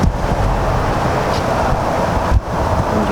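A strong spray of water rinses the wheel of a silver Porsche during detailing, a steady loud hiss and splatter close by, continuous, with a brief dip near the end.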